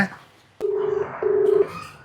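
Telephone keypad dialing tones while calling a father: two steady, loud beeps of about half a second each in quick succession, preceded by a faint click and followed by quiet room noise.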